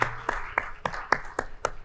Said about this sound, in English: Please, a big round of applause for Tiago and Bruno.